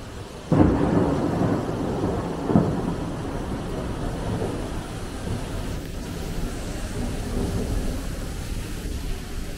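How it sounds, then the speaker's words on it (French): Deep rolling thunder rumbles through a thunderstorm, with a loud crack near the start and a long low roar fading under steady rain. "Écoutez le bruit du tonnerre, de l'orage."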